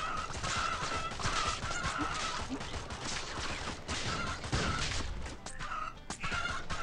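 Dense, busy game noise from Swamp Attack 2 as chickens are set on fire and burst, a steady crackling, clattering wash with scattered pops and squawk-like tones throughout, fairly loud and continuous with no talking.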